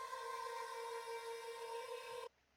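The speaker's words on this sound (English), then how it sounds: "we have this vocal atmosphere one shot" Pitched-up vocal atmosphere one-shot played in the Amigo sampler for a classic rave drum and bass track, a sustained airy tone holding steadily for about two seconds, then cutting off abruptly.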